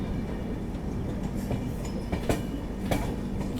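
Himgiri Express passenger train rounding a right-hand curve on its run toward Jammu Tawi, a steady loud rumble of wheels on rails with a few sharper clacks and brief squeal accents, no voices.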